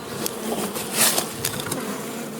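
Bees from a fallen beehive buzz steadily in the foreground, with several louder passes as individual bees fly close by, and no voices are heard.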